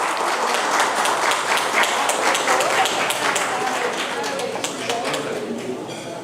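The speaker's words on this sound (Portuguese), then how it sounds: "palmas." Audience at a lecture on ethics applauding as panel members are called to the table, a dense patter of clapping with tapping claps, under a speaking voice.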